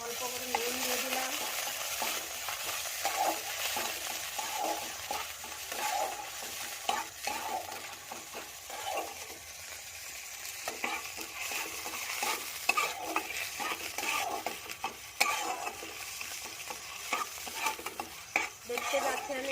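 Ginger sizzling with nigella seeds in hot oil in a pan, a steady dense frying hiss with intermittent scraping stirs and light utensil taps throughout, no voices.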